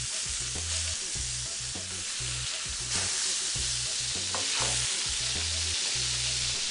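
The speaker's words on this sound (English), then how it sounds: "you can flip them over and let them cook for about 5 more minutes." Chorizo burgers sizzle loudly in a pan after being flipped, a dense, steady hiss and crackle with a low rhythmic thumping underneath, no voices.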